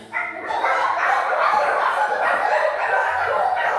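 A group of children at a stage show imitate dogs barking together, a loud, continuous chorus of yapping voices that starts abruptly and keeps going without pause.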